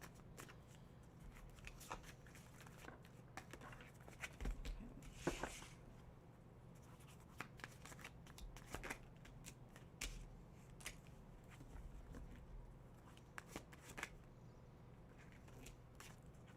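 Tarot cards are shuffled quietly and repeatedly, with soft riffling flutters and light taps in an otherwise hushed room.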